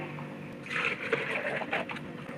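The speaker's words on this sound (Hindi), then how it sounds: "सबसे पहले हम दूध डालेंगे अपने ब्लेंडर में" Milk pours into a blender jar for cold coffee, a steady splashing stream lasting under two seconds after a brief quiet start, close and moderately soft.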